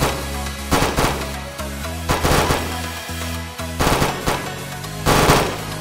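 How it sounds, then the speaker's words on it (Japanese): Volleys of matchlock gunfire ring out against surrendering rebels in a reenacted Oda versus Ikko-ikki battle, coming as repeated loud bursts of rapid shots, roughly five clusters spaced about a second apart. "陸から船から降伏した一騎勢に向け容赦ない鉄砲射撃が始まる。"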